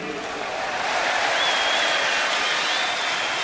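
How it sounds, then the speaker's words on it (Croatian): Steady applause from a stadium crowd at a 1990 Croatia versus USA friendly football match, greeting substituted players. It is a dense, continuous clapping wash that holds at an even, fairly loud level throughout. "Asanović ispraćen pljeskom i Mladenović dočekan pljeskom"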